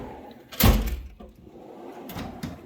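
A blow-molded drawer of a Snap-on MasterSeries 54-inch tool box sliding open, one loud close rolling thump and rattle, followed by fainter knocks as it settles.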